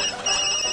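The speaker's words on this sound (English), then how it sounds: "my phone's been ringing off the hook" A mobile phone ringtone sounds in a brief, bright electronic burst of steady tones, close and fairly loud with no talk over it.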